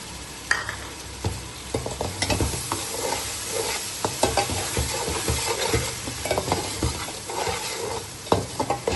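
Whisked yogurt stirred into a frying chana pulao masala, sizzling steadily while a spoon scrapes and knocks against the pot in an uneven rhythm, close and fairly loud, with no voices.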